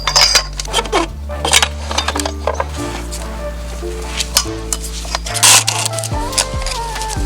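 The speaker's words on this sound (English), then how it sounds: "Now I can remove the rear wheel and get the sprocket off." Metallic clinks, taps and scrapes ring out up close as the rear wheel and sprocket come off a Yamaha R6 motorcycle, irregular tool-on-metal knocks with tonal ringing between them.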